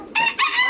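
Chickens on a farm in winter give two short loud squawking calls close by, alone without talk.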